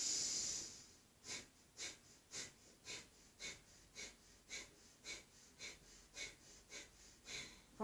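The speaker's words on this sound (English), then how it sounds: "So let's do a couple of rounds of Kapalabhati." Kapalabhati yoga breathing during a power yoga session: a string of about twelve sharp, forceful nasal exhales puffing out at a quick, even rhythm, close and soft, following one longer breath.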